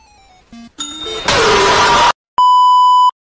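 A phone text message notification sounds in an animated Minecraft-style meme: a series of short electronic tones and a burst of noise lead into a loud, steady, close beep lasting nearly a second, with no talk over it.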